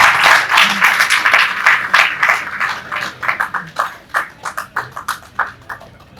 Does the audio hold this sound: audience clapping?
yes